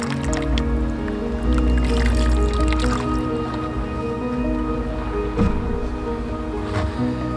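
Water pours steadily into a tray holding potted blueberry cuttings, a continuous filling rush with faint splashes and drips, close and fairly loud throughout.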